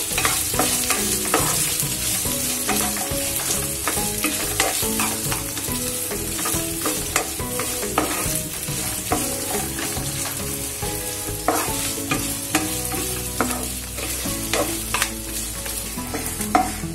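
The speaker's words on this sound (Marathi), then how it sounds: "कांदा आपल्याला छान लालसर होईपर्यंत मस्त परतून घ्यायचा आहे" Onion sautéed in a pan until reddish, with continuous sizzling and frequent spoon scrapes and stirring knocks against the pan, close and steady throughout, no voices.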